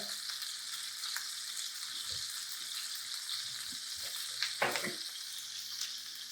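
Steaks browning in a frying pan for steak pizzaiola give a steady close sizzle, with a few scrapes and clunks of the pan and meat, one louder knock near the end.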